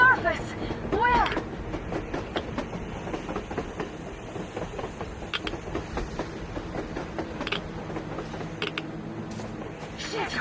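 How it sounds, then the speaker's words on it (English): A train rolls along on the surface in the video game Metro Exodus, with steady rumbling, creaks and clattering mechanical clicks sustained throughout, while voices talk over it. "A damn train on the surface!"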